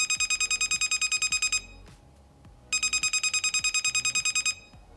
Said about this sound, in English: When within a Bluetooth range, you can sound these alarms, but which one is louder?